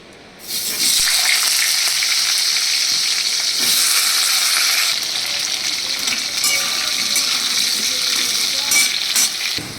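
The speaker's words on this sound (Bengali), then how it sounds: "এবার দেখো আমার আলুগুলো লাল লাল করে ভাজা হয়ে এসছে" Potatoes frying in hot oil tempered with white and black cumin, a loud, steady sizzle that starts abruptly and continues without a break, with occasional stirring scrapes.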